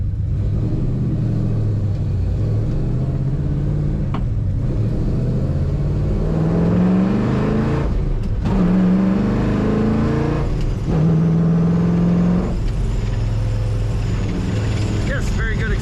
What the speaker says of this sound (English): And such a great exhaust sound from this car.